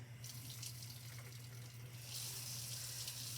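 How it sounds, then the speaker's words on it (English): A faucet runs into a sink for hand washing, a steady close-up gush of water with a low hum underneath and the flow swelling louder partway through. "I'm going to turn on the water"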